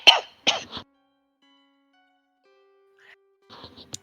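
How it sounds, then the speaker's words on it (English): A person coughs and clears their throat in three quick, harsh bursts up front, then silence with a faint hum, followed by a few softer coughing sounds near the end. "did I just hear someone cough?"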